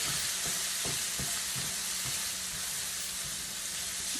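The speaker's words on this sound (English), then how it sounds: "you're going to let that cook just long enough till you start to smell the garlic" Garlic sizzles steadily in a hot pan, a close, continuous frying hiss broken by soft, regular stirring taps, with no voices.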